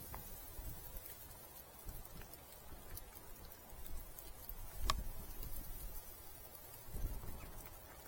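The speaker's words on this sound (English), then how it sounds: "looks like there's a bit of rain coming down now" Light rain falling beside a trout stream, a soft, steady patter of drops that stays faint and close throughout, with no voices.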